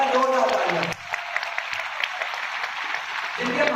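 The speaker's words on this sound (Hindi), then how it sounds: "जोरदार तालियां" Loud audience applause at a wellness organisation gathering, a steady crowd clapping that breaks in after a voice and continues evenly, with speech at the start and end.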